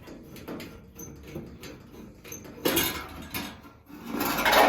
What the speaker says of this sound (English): Now I'm just going to remove the front cover.